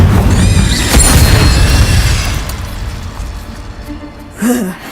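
Loud booming spell blast from Confringo or Incendio in a Harry Potter video game, a dense roaring burst in the first two seconds that fades into a lingering rumble, followed by a brief groan.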